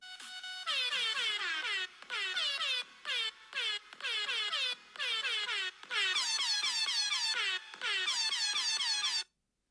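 Rapid repeated blasts of an air horn, short bursts in quick succession with brief gaps, loud and insistent, ending abruptly.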